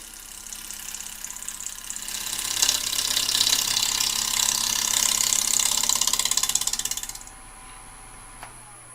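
A wood lathe cuts across the end grain of a wooden bowl turned from a small log, a loud, steady whirring rasp lasting about seven seconds before it suddenly drops away to near quiet.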